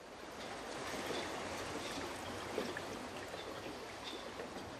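Ocean waves at sea off the southern US East Coast, a steady broadband wash of moving water with soft surging swells, continuous and fairly even throughout with no voices.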